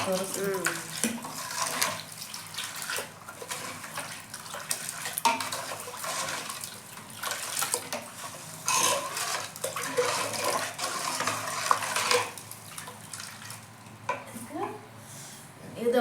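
Water is poured into a cooking vessel in a home kitchen during Ugadi festival cooking, a steady splashing flow heard under ongoing talk.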